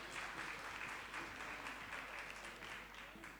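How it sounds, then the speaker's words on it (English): Conference audience clapping for a panel, a brief, fairly quiet patter of many hands that slowly tapers. "Can we give them a round of applause again,"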